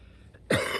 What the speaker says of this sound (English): As I cough a lung out.